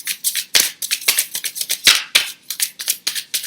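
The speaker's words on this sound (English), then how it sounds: "start shuffling the cards." Tarot cards being shuffled in quick, crisp riffling bursts, a steady rapid flutter of card edges close by with no voices.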